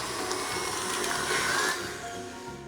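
An electric hand mixer beats coconut and raspberry loaf cake batter in a kitchen, a steady continuous whirring hum that holds close and fairly loud before easing off slightly near the end.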